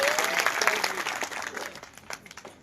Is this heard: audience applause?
yes